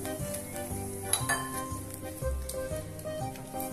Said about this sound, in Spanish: Vamos a mezclar y los vamos a cocinar